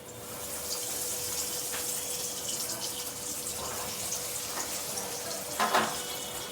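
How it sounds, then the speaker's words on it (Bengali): Chops frying in hot white oil give a continuous, even sizzling hiss up close, with a brief louder burst of crackle near the end. "তেল এবার গরম হয়ে গেছে, একে একে এবার চপ ছাড়তে থাকবো"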